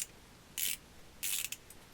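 A DEWALT ratchet wrench from a mechanics tool set ratcheting in two short, faint clicking bursts with a brief tail of clicks, heard close and alone.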